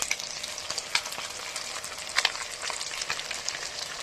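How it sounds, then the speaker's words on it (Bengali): Fish fry crisp in a hot pan of oil, with a dense, continuous crackle and hiss close by and sharp pops scattered throughout. "মাছগুলো কড়া করে ভেজে নিচ্ছি"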